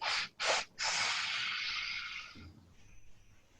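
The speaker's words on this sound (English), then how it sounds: "Inhale, inhale, inhale. 3 sniffs." Three quick sniffing inhales through the nose during a breathing exercise: two short sharp sniffs followed by a longer drawn-in breath, close and clear, then quiet.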